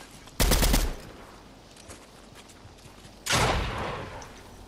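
Gunfire in a shooting video game: two loud automatic bursts, one early and one near the end, over a steady low background murmur of a match.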